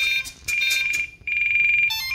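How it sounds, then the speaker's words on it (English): Low-battery warning alarm from a Spektrum NX radio transmitter: a loud, close, high electronic tone sounding in repeated beeps and longer sustained blasts with brief gaps. "I've got an alarm set up in case you put a dead battery in a plane"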